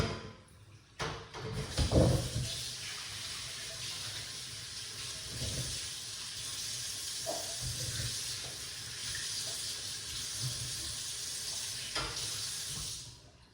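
Running tap water pours steadily over something being rinsed, with a few handling knocks near the start and a soft, continuous rush throughout.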